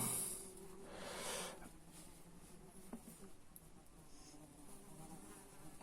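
Flies buzz around outdoors at a dig site, a steady close droning hum that swells louder near the start and then continues evenly, with faint background rustle and no talking.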